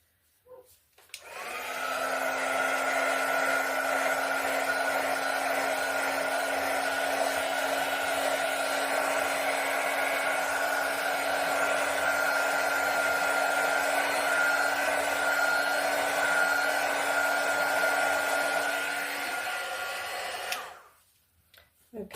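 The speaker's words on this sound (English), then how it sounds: "I'm going to hit this with a heat gun quick" A heat gun blows steadily over an acrylic pour painting for about twenty seconds, a close, even whooshing drone that switches on and off cleanly, with no talking.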